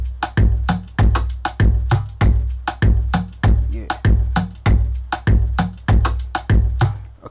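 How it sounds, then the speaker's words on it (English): Programmed drum beat with punchy kicks, sharp snares and bright hi-hats, looping in a steady, loud pattern throughout; a voice briefly speaks once over it. "you're supposed to have a drum pattern that sounds like this"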